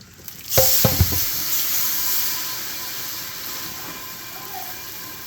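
Hot water runs in a sink onto a hot slow cooker to clean it, starting with a sharp burst of sizzling and then settling into a steady hiss that slowly fades.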